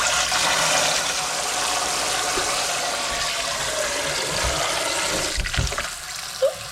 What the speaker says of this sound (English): We're gonna add our salt and sugar mixture, as well as some cold water.